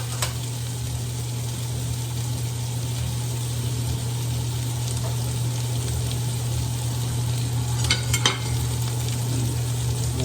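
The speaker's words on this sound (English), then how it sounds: "So while that's searing," A thick steak sears in olive oil in a hot pan, giving a loud, continuous sizzle over a low steady hum, with a few sharp crackles and utensil clicks.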